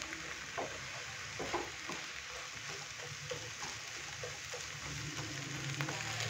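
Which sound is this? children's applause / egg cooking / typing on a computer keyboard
egg cooking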